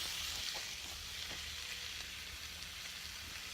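Bacon, cheese and tomato sauce wraps sizzle and fry in a pan for dinner outdoors on a hot day, a steady crackling hiss running throughout with small pops, close and moderately loud, with no talking.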